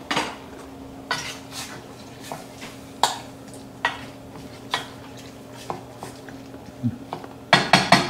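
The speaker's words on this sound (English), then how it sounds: "Let's come over here and stir the string beans and the corn." Utensil stirring string beans and corn in a metal pot, with a dozen sharp scraping clinks at irregular intervals over a low steady hum, ending in a quick flurry of louder clatter.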